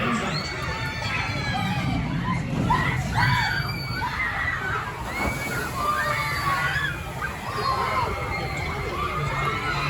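Tidal Wave water ride at Thorpe Park, with sloshing, splashing water under a busy crowd of screaming and shouting riders and children, steady and fairly loud throughout.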